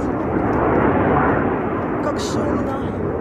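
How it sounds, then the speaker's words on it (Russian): Fighter jets fly overhead, producing a loud, continuous broadband roar that fills the whole moment without letup, and a voice is heard over the noise. "Ой, истребители полетели."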